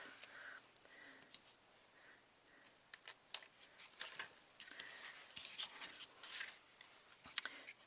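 Small scissors snip quietly through craft material, a scattered series of faint, crisp clicks and snips in a quiet room, some closely spaced, others separated by pauses.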